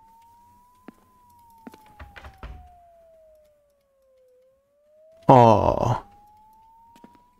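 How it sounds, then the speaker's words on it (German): A police siren in the horror game Crimson Snow, one steady, faint tone that rises and falls slowly, with a few sharp clicks and a loud, startled shout from a player partway through. "Ich höre Sirenen."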